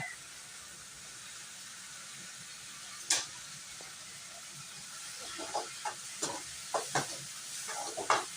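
Chicken gravy ingredients sautéing in a pan give a steady soft sizzle, with a few sharp stirring scrapes at first and then a run of clicks and scrapes toward the end; no voices.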